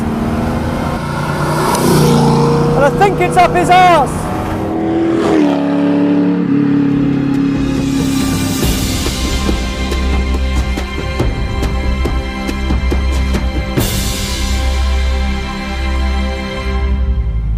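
A loud Ford GT40 racing engine roars and revs close by, its pitch climbing and falling through gear changes, with a voice briefly heard.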